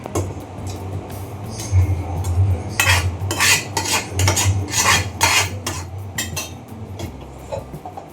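Chicken curry fries in a pan while a metal spoon stirs and scrapes it, producing repeated clinks and scraping close by over a low, steady background rumble.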